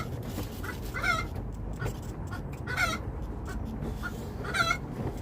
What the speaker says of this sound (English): let's go and see what the crack is with this chicken